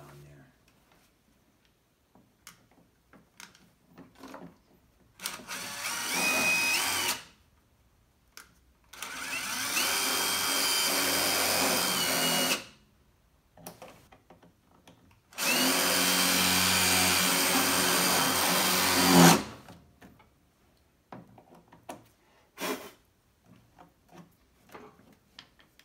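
Power drill boring holes during deck chute replacement on a Cub Cadet GTX1054 mower, with two long loud whirring bursts and a shorter one, separated by quiet handling noises.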